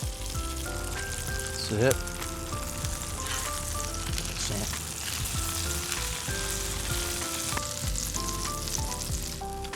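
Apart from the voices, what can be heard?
cornbread grilled cheese frying in butter in a pan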